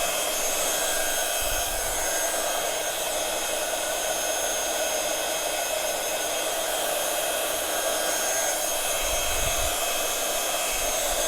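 A heat gun blows steadily over a craft canvas decorated with floral stems, a continuous loud airy roar for the whole stretch with no talking.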